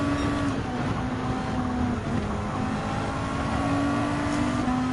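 Race car engine in Gran Turismo 7, a continuous high-revving whine with slight pitch shifts as gears change, loud and steady with no talking.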